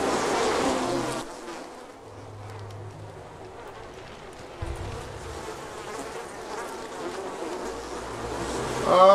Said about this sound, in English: It's like their bees are so loud.